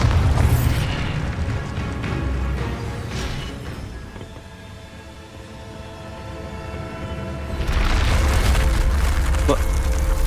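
Bombarda spell explosions in the video game Hogwarts Legacy: booming blasts open and close the stretch, with a quieter rumbling lull and faint game tones between them.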